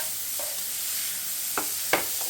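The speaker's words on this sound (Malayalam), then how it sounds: "ശേഷം നമ്മൾ ആക്കി വെച്ച ചിക്കൻ ഇതിലേക്ക് ഇട്ട് മിക്സ് ചെയ്ത് കൊടുക്കുക." Boiled chicken is stirred into masala in a hot pan: a steady frying sizzle with a few short scrapes of a spoon against the pan.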